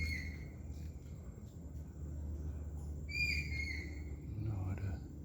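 A faint bird calls somewhere in Krabi, Thailand, a few thin high whistled notes rising over a constant low background hum, distant and quiet, with no talking.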